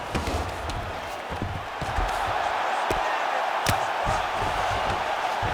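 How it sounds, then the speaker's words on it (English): A packed arena crowd roars steadily at a women's UFC bout between Ronda Rousey and Amanda Nunes, with sharp thuds and slams cutting through and a voice talking over the noise. "Huge response from the crowd."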